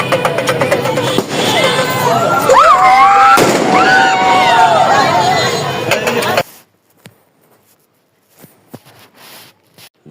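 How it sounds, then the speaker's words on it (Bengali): Fireworks set off at a wedding as the groom's car arrives, a loud dense crackling burst with whistling rockets and popping over crowd noise for about six seconds, then scattered faint pops in near silence. "আসা মাত্রই ওখানে অনেক আতশবাজি ফোটানো হয়েছে"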